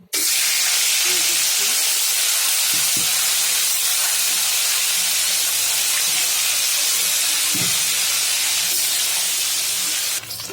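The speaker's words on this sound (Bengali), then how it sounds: "তো চলেন আমি এগুলো ভেজে নেব। এই তো চুলে আগে থেকে তেল বসানো।" Koi fish fry in hot oil on a stove, a loud, continuous hissing sizzle that starts abruptly and holds steady throughout, with faint crackles and occasional soft knocks beneath it.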